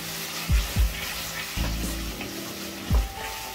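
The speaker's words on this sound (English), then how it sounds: "I've been frying the tomatoes for almost 8 to 10 minutes on high flame" Tomatoes fry in oil over high flame for a Bengali prawn malai curry, a steady sizzle broken by a few sharp scrapes and stirs, all close and with no talking.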